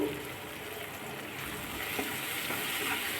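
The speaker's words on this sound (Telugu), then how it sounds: "చక్కగా ఫ్రై చేసుకోవాలండి ఇది కూడా మసాలా స్మెల్ పోయేంత వరకు" Steady sizzling of masala frying in oil with a yogurt mixture and a little water, for methi egg curry, with occasional stirring clinks and faint background voices.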